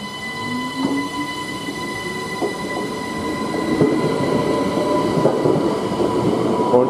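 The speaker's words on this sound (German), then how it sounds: "Und jetzt haben wir direkt die Ausfahrt vom CityJet Express nach Innsbruck." A CityJet Express train pulls out of Kufstein toward Innsbruck, rolling past close and loud with a rising drone, repeated wheel clacks and squeals, and a steady rumble that grows stronger as it gathers speed.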